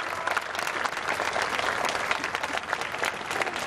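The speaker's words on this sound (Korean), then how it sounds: "여러분 큰 박수를 맞아주십시오" Studio audience on a Korean TV program clapping to welcome a history lecturer guest, dense steady applause filling the whole stretch at full strength.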